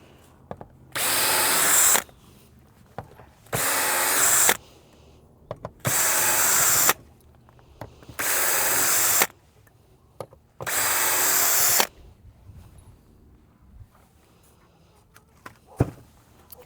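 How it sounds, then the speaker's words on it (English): A dirty, dust-clogged power drill set to a low speed setting drives screws in five steady bursts of roughly a second and a half each, separated by short pauses, close and loud, with no one speaking over it. "my drill's got a lot of dirt in it"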